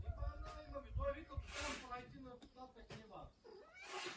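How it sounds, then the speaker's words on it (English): Several house cats meow and caterwaul outdoors near a roof repair, with repeated mid-length calls over background rustle, while a person speaks nearby. "There's the cats."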